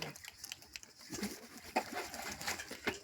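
Pet pigeons move and coo softly near the listener, with faint scattered calls and light fluttering rustles, a few brief louder chirps over steady low background noise.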